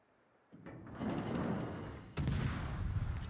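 Naval guns firing in the World of Warships game, with a Japanese Shinonome tier 6 destroyer under fire: two heavy booming blasts, the second louder, each rolling into a sustained rumble.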